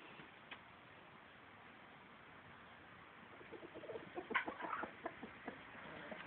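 Chickens and a rooster clucking in a yard as they are fed, soft scattered calls rising to a brief louder burst of clucks near the end over faint background.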